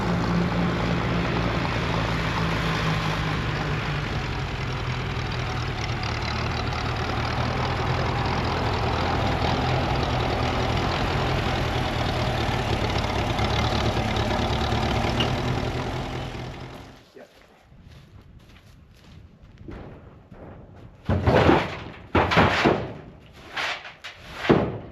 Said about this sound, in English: we'll fire up the tractor